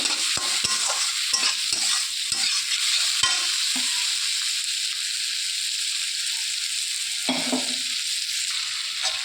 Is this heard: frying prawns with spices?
yes